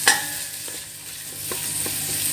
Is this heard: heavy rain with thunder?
no